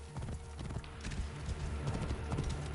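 Horse hooves clip-clop in Assassin's Creed, a steady rhythmic clatter of several quick hoofbeats, close and moderately loud over a low game backdrop.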